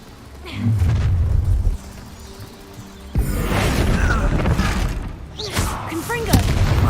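A Confringo explosion spell in Hogwarts Legacy lets off a sudden loud blast with crackling bursts and rumbling booms, followed by more pops and impacts, and a voice calls out over it.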